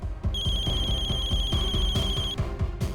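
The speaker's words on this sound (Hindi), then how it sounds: "फोन उठाओ वीरेन, फोन उठाओ।" A telephone rings in an office meeting scene of the Indian crime drama CID, a steady electronic ring tone holding for about two seconds over a rhythmic low background beat, with no voices.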